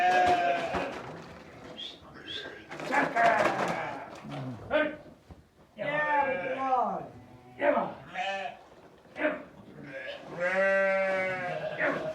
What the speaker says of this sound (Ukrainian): Ягнятка